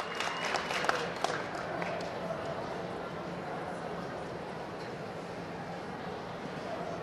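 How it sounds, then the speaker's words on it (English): A crowd at a dog show for English Setters claps steadily for their favorites, a broad, continuous wash of applause that stays fairly even throughout. "Crowd applauding for their favorites."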